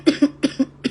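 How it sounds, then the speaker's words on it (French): Close, sharp coughing in quick succession, five short bursts in under a second, with no talking. "Qui a toussé là?"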